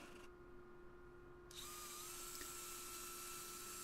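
A power drill drives screws upward through the panel of a sheet-material cart tipped on its side, a steady high whine that rises and grows louder partway through, running alone without talk.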